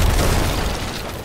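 Gunfire and explosions in a shooter game: a dense, loud rumbling barrage of booms that slowly fades.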